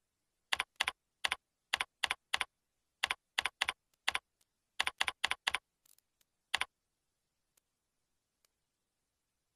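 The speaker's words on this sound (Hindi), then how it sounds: "अब आप यहां टेक्स्ट टाइपिंग शुरू कर सकते हैं।" Keys clacking on a computer keyboard during a text-entry lesson, in short irregular bursts of crisp taps with brief pauses, then a few sparse isolated clicks trailing off into near silence.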